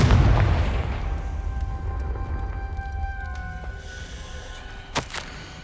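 A Confringo blasting spell explodes in Hogwarts Legacy: a loud, deep boom at the start rolls into a long, fading rumble, with a faint sharp crack near the end.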